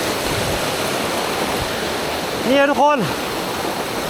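A very tall waterfall in a rainforest roars as a steady, loud broadband rush throughout, while someone briefly speaks over it near the end.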